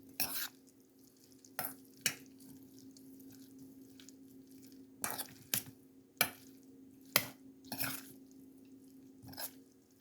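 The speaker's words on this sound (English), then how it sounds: "you're just going to mix it all together." Esquite corn and its toppings are stirred together in a bowl, with soft wet squishing under a steady background hum, broken by about a dozen sharp scrapes and clacks of the spoon.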